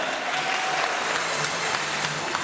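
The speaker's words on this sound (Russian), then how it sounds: "Аплодисменты жюри и всем участникам фестиваля." Steady audience applause at a regional youth festival in Vasylivka, Ukraine, honoring the jury and participants, dense even clapping filling the hall throughout with a faint sustained tone underneath.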